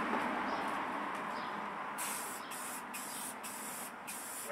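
A Canadian Tire Premier spray paint can sprays in one long, steady hiss, broken by a few brief pauses as the nozzle is released and pressed again; close and fairly loud, with no talking.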